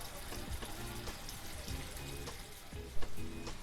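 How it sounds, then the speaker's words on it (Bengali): Black mustard paste sizzles in oil in a pan while Bengali tel koi is cooked, making a steady crackling fry with soft stirring knocks and a brief clatter near the end. "সরিষা বাটা দেওয়ার পরে খুব ভালোভাবে এটা মিশিয়ে মিনিট খানিক আর একটু ভেজে নিতে হবে।"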